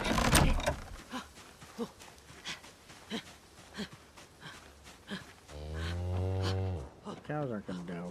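Cows on a farm in the game Project Zomboid (build 42) give a long, low moo, then a shorter second one, after a run of soft, regular footstep-like taps.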